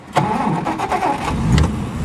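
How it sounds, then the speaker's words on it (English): A 1946 Plymouth Special Deluxe with the choke partly out is started by push button. Its engine cranks briefly, catches with a loud burst, and settles into a steady close idle with a few uneven surges. "the car starts right up"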